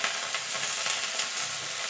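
Fish masala with ginger, garlic, cumin and chili frying in a pan and being stirred, a dense, even sizzle heard up close for a couple of seconds with no voices.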